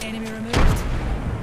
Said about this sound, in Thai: โอ้โหระเบิดเยอะจังอ่ะกี่ลูกอ่ะ